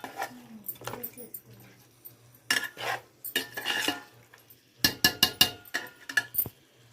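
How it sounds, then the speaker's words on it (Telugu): A spoon stirs chili powder into chicken in a pan, giving a few soft scraping strokes and then a quick run of sharp clinks against the metal near the end, close by and fairly quiet, with no talking. "రెండు స్పూన్ల వేసుకొని ఇలా కలిపేసుకుందాం."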